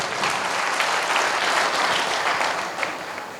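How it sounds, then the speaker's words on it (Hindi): An audience at a speech event breaks into sustained, dense applause, loud and steady throughout with no talking over it. "मैं चाहता हूं ऊपर वाले के जोरदार ताली होनी चाहिए"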